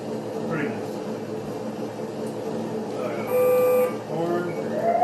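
Electronic horn from the sound module of an upgraded FMS RC FJ40 model, a short buzzy honk sounding once near the end, with a voice talking over the module's background hum.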